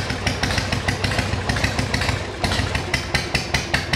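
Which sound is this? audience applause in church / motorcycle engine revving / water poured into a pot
motorcycle engine revving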